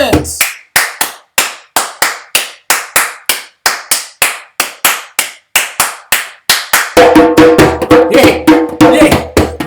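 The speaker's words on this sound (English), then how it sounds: "It's time to clap your hands." Hands clap in a steady, evenly spaced rhythm at a family storytelling session: about twenty crisp, close claps, then a denser stretch of clapping with a voice and other sound underneath near the end.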